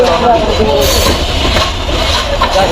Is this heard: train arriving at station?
yes